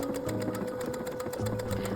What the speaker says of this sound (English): Some cute stitches on my sewing machine, so I decided to test those out because I've never used them before.